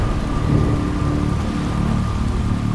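Stormy midnight scene in the video game Jenny LeClou, with steady heavy rainfall and a deep rolling rumble of thunder forming a dense, continuous wash of sound.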